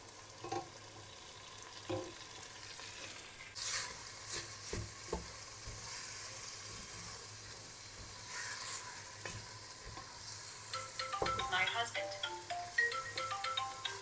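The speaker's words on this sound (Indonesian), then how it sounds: "kalau bumbunya udah matang kayak gini, kita masukin dagingnya. Kita masak bersama bumbu." Beef sizzles and fries in a pan with cooked spice paste for tongseng, a steady crackling hiss with occasional stirring clatter, close and loud with no talking.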